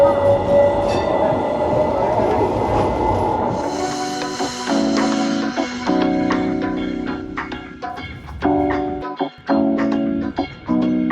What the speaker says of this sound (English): And here is our tram.